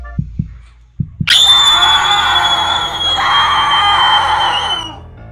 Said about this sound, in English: You got super scream.